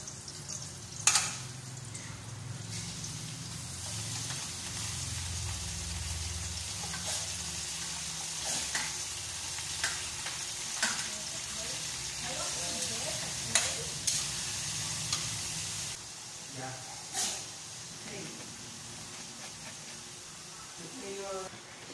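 Chicken liver sizzles steadily in a hot pan while being stirred, with occasional utensil knocks and scrapes, and someone talks over the frying.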